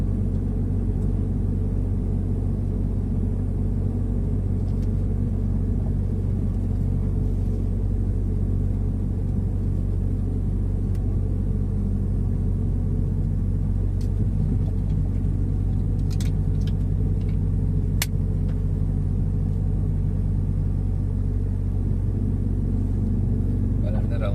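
Car driving on a road in Germany, heard from inside as a steady low engine and tyre rumble throughout, with a navigation voice and someone talking over it.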